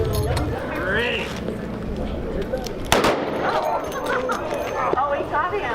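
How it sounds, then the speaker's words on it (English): During a staged street gunfight show in Oatman on Route 66, a single sharp bang pops out midway through an outdoor scene full of excited voices talking and shouting around it. "Oh, he shot him. He shot him."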